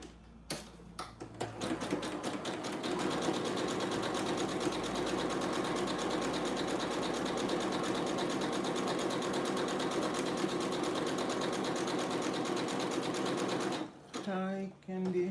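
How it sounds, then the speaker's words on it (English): A sewing machine runs a zigzag stitch in one long, rapid, rattling burst close by, stopping near the end as a voice briefly comes in. "let's put some zigzag stitch"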